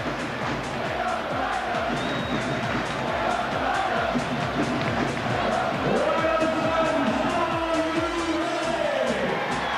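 Hull rugby league fans cheer and chant at Headingley during a Leeds versus Hull match, a dense roaring crowd with rising shouts, steady and loud throughout.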